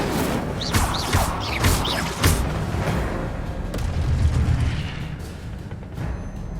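A fire spell cast in Hogwarts Legacy, heard as a string of sharp bursts and whooshing impacts over a dense, steady game soundscape, with several strong hits in the first few seconds and then a rumbling wash.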